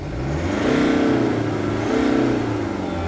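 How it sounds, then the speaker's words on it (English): A Mercedes-Benz car engine revs at a networking event in Birmingham, two strong throttle swells rising and easing over about three seconds, loud and close. "rev your engine for us, please."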